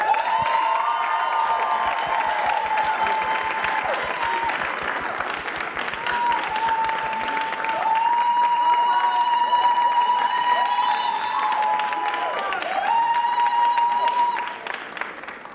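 A school Black History Month celebration audience applauds and cheers as a Trailblazer Award recipient comes to the stage, a long sustained round of clapping with whoops and a tonal musical line running beneath it.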